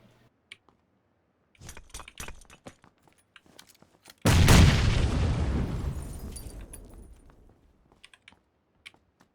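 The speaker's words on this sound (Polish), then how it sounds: "Okej, wrzucę mu tam granat na dach." A grenade bursts on a rooftop in PlayerUnknown's Battlegrounds, one sudden loud blast that rumbles and fades over a few seconds, with sparse keyboard clicks and taps before and after.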